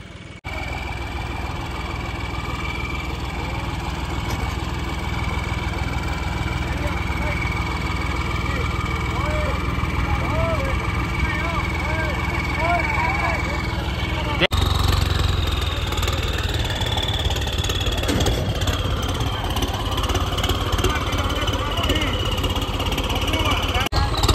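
A Farmtrac 60 tractor engine drones steadily and loudly through a tug of war against a Cheetah 5050 D tractor, its pitch and intensity shifting partway through as the strain rises, with voices faintly in the background.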